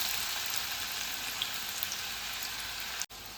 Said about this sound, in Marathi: आता इथे तेल गरम झालेलं आहे तर कांदा घालून घेणार आहे